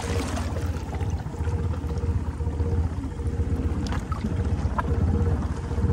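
A Honda Rubicon quad ATV churning through swamp water, a continuous low engine rumble with sloshing and splashing water, close and steady.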